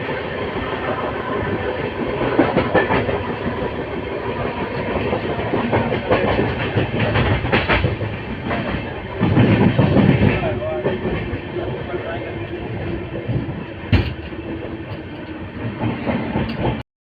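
Two trains crossing, the Prayagraj Express passing the Amrit Bharat Express on an Indian rail line: a steady loud rolling rumble of wheels and carriages with clickety-clack bursts, rising around midway and again near the end.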